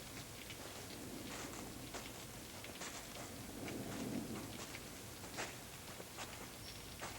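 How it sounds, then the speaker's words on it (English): Steady rain falls over a soft, low rumble of distant thunder that swells midway, with scattered drops tapping close by; no one speaks. "Rain'll do a lot of good."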